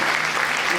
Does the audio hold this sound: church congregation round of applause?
yes